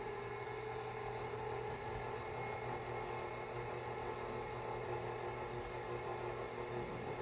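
A stand mixer whirs steadily while stirring coconut cake batter, a constant close motor drone with a faint hum, unchanging throughout and with no speech.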